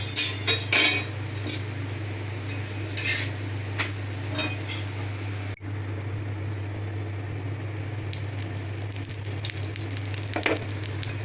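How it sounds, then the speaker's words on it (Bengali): Paratha frying on a hot tawa gives a steady sizzle, with utensil scrapes and clinks near the start and again toward the end; no one speaks. "এই যে তাওয়া গরম হয়ে গেছে, আমি এখন রুটি দিয়ে দিলাম।"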